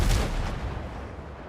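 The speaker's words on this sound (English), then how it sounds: "Man the cannons!" Ship cannons firing in the pirate survival game Windrose, a heavy boom at the start rolling into a broad, rumbling roar that slowly fades with no talking.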